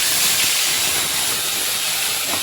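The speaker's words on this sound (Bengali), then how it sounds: "এখন আমি মশলাটা ফ্রাই করে নেব" Ground paste of poppy seed, cumin and dried chilli hits hot oil, producing a loud, steady frying hiss that runs continuously with no talk.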